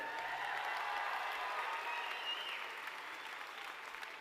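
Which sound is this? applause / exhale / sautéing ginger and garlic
applause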